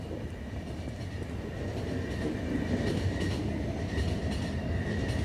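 Steady rumble of a train running on rails in the video game The Final Station, a continuous low mechanical drone with faint rhythmic clatter, growing slightly louder midway, with no voices.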